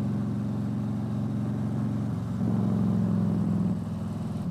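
A Harley-Davidson motorcycle engine rumbles steadily while riding, a low throbbing drone heard close and continuous, swelling slightly louder for a second or so as the throttle opens before easing back.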